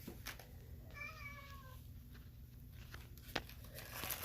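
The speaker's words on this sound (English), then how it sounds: "It's like my cat's coming to visit us, if you heard that in the background." A house cat meows once in the background indoors during sunflower seed planting, a short, faint, tonal call with a few soft rustles and taps around it.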